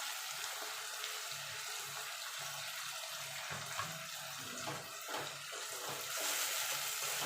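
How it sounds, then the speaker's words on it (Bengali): Water poured into a mixer grinder jar while preparing a Bengali mutton curry with potatoes, a steady hissing rush of liquid heard fairly faintly throughout, with no talking. "এবার মিক্সির জারটা দিয়ে একটু জল দিয়ে দেবো।"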